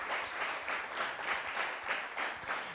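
Applause from an audience at a youth talent show event in 2023, a steady wash of many hands clapping in soft pulsing waves, fairly faint and continuous with no voices standing out.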